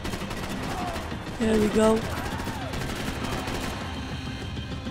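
Gunfire in Max Payne 3, a steady stream of rapid shots running throughout with a rattling, continuous texture, while someone speaks briefly over the top.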